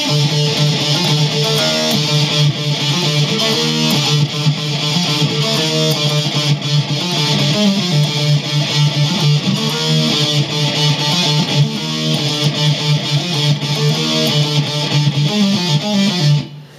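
A distorted electric guitar plays a rhythm riff, looping steadily and loudly, with a driving repeated pattern and no voices.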